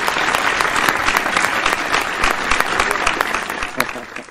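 Vigorous applause from an audience honours Ajay Agarwal of Laxmi Misthan Bhandar, a dense, close clatter of many clapping hands that holds steady and tapers slightly at the end.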